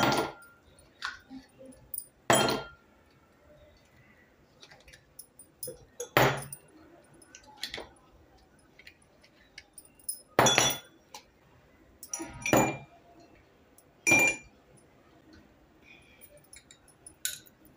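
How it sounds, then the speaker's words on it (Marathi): Ice cubes drop into several glasses while preparing tender coconut sherbet, giving sharp glassy clinks in separate bursts every couple of seconds with quiet gaps between them. "आता इथे मी 2-3 ग्लास घेतले आहेत। त्याच्यात आपण बर्फ घालूया।"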